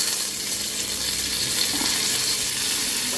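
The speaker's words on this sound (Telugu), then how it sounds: "ఉల్లిగడ్డ కొంచెం ఇట్లా ఫ్రై అయితే మంచి కమ్మటి ఫ్లేవర్ వస్తుంది" Onions frying in a pan at home, giving a loud, dense, continuous sizzle that holds steady throughout with no voices over it.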